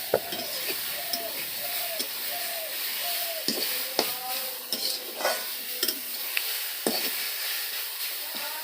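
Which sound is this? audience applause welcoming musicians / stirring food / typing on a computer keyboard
stirring food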